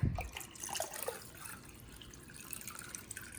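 Water poured from a very large measuring cup into a stockpot of vegetable broth, a soft, steady trickle and splash with faint dripping, close by and continuing quietly throughout with no talking.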